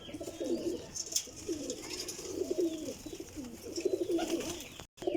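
A Sialkoti flying pigeon coos in a steady run of soft, throaty, repeated phrases, close and fairly clear, with faint chirps behind and no talk.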